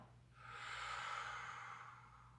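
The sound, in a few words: breathing out during breathing exercise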